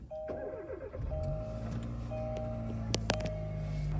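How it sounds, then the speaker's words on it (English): A Kia Cerato GT is started with its push button, with a brief starter crank followed by the engine settling into a steady idle, plus a few soft electronic chimes and clicks inside the cabin. "What I'm going to do now is I'm going to now start the car"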